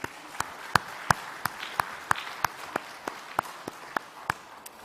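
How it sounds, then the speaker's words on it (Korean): Congregation in a church claps in thanksgiving during a Sunday service, sharp distinct claps landing in a slow, steady rhythm, roughly a dozen separate strikes over a quiet room. "감사함으로 박수 한번 하겠습니다"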